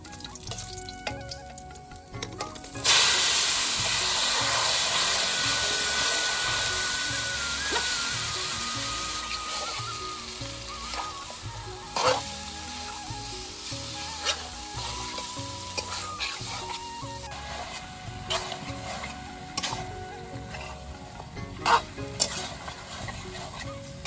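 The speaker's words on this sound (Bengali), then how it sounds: "এখন দিয়ে দেবো মেখে রাখা মাংস" Marinated country chicken hits hot oil tempered with whole cumin, erupting into a loud, sustained sizzle that settles into steady frying with spatula scrapes and stirring clinks, close up and without speech.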